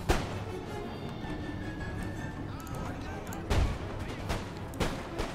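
Musket volleys and artillery booms in an Empire: Total War battle for a ridge at Niagara, a few heavy distant blasts over a rumbling battlefield din while someone talks throughout.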